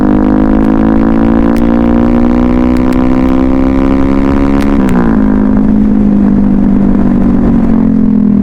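Yamaha R15 V3 motorcycle riding along, its engine droning loud and steady the whole time, the pitch climbing slowly before it drops at a gear change and then settles.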